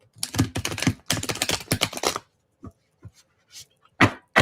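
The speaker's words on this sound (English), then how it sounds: "I have a hard time shuffling these damn cards." A deck of tarot cards is shuffled in quick, crisp riffling bursts, dense at first and then trailing off into sparse single taps and flicks, close to the microphone.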